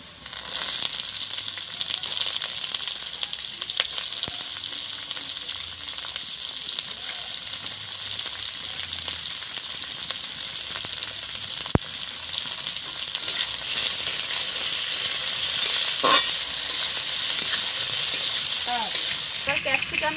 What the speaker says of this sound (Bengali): চাউমিন করার জন্য সবজিগুলো কিন্তু আমি বেশি ভাজবো না, ভাজলে ভালো লাগবে না, তাই হালকা করেই ভাজবো